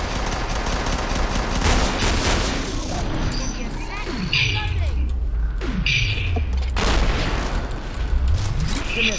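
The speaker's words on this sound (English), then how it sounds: "these revolvers are just so awesome" Loud revolver gunshots in Killing Floor ring out amid heavy game combat, with sharp reports, booming impacts and swooping effects, while people talk over the action.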